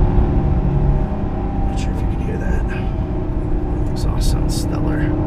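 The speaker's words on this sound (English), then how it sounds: "It's got a really awesome back bellow on the exhaust." A 2015 Chevrolet SS on a race track gives a loud, steady engine and exhaust drone heard from inside the car, with someone talking over it throughout.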